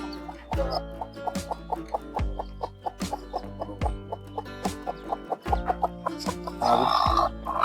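A hen and her day-old chicks cluck in a steady series of short, close calls, with a brief burst of higher chirping near the end.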